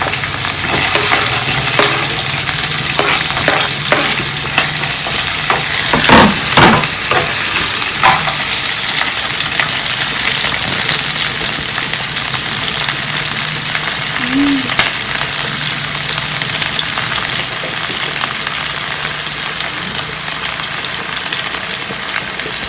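Onion masala fish fries in a hot pan with a steady, loud, close sizzle, and occasional clinks and scrapes from stirring cut through the constant hiss.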